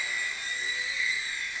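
Hisky HFP80 V2 small RC helicopter holding a hover in a confined space, a steady high-pitched rotor and motor whine, close and continuous with slight wavering.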